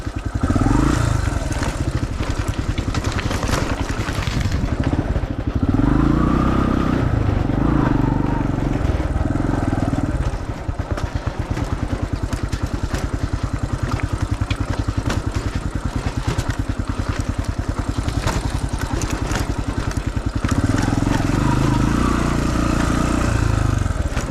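A dirt bike motorcycle picks its way slowly down rocks on a forest trail, its engine a steady close rumble throughout, with occasional rattling clatter over the stones.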